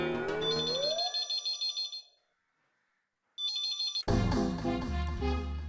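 A telephone ringtone trills in repeated electronic bursts, stops for a moment, rings again, then gives way to loud sitcom background music.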